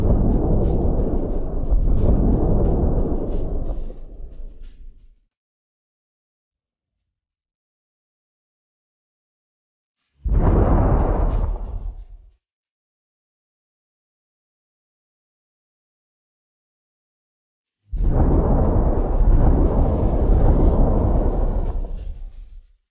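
A car grown as large as Earth crashes into the planet in a universe simulation game. It comes as three separate deep, roaring explosive rumbles with full silence between them, the middle one short.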